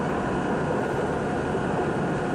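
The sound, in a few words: NYC Subway D train passing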